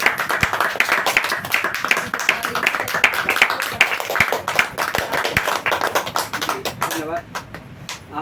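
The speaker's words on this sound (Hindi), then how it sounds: "एक बार विशेष ताली बजाओ मित्तल साहब के लिए।" An audience bursts into dense, sustained applause for an honoured guest at a Hindi-language gathering, many hands clapping together steadily for about seven seconds before tapering off.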